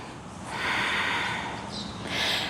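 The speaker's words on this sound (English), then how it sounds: "We're going to take one more breath here." A deep, close breath during a sunrise yoga session, an airy inhale swelling and easing, then a second rushing breath, soft and alone.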